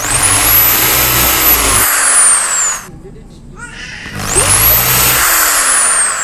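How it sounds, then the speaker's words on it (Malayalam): A power drill boring holes through a piece of leather for a homemade slingshot, two loud bursts of high whining that rise and fall in pitch, separated by a short quiet gap. "നമുക്കൊന്ന് ഡ്രില്ല് ചെയ്തെടുക്കാം."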